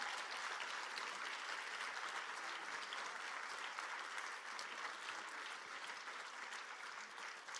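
An audience at a Take Back Tech plenary on data centers applauds Naomi Klein. The clapping is dense and continuous but fairly faint and distant, holding steady from start to finish with no speech over it.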